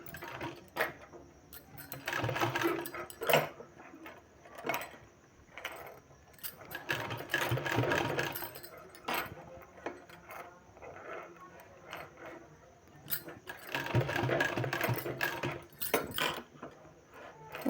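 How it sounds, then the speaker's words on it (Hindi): Domestic sewing machine stitching a fabric sleeve, running in several bursts of fast mechanical clatter separated by pauses, close and moderately loud. "इस तरह से फोल्ड करते हुए इस तरह से सिलाई लगाना है।"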